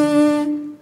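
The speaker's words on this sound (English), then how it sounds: "So without the mouthpiece, the buzz sounds like this." A brass player buzzes the lips without a mouthpiece, making a single short, nasal, reedy buzz that holds one pitch and fades within a second, close and alone.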